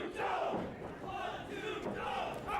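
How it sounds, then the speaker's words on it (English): Wrestling crowd at a CTWE Bethany Battle 2013 event cheering and chanting for the referee, a loud sustained roar of many voices with rising and falling waves of shouting throughout. "Crowd showing their support for our referee, Will Dojan"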